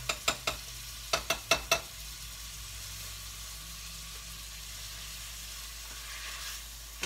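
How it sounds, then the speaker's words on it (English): Ground beef sizzles quietly in a pan while a potato masher crumbles it, a burst of sharp knocks near the start giving way to a steady, soft frying hiss. "when you're crumbling ground beef while it's cooking"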